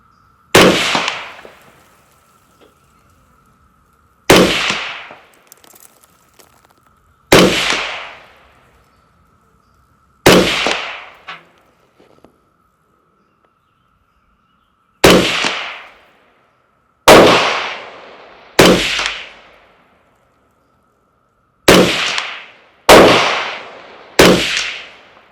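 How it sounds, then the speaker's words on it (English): Ten sharp rifle reports from an AR rifle firing Black Arc 77 ammunition at a target 100 yards downrange, each crack loud and close with a decaying tail, spaced a few seconds apart, several in quick pairs near the end. "All right, that's 10 shot group at 100 yards."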